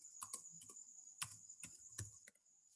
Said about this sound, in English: So I'm just typing an address